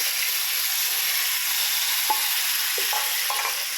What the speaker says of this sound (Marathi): पळयात बरें फुटफुटूंक लागिल्लें आसा, वास बरो सुटला पळयात।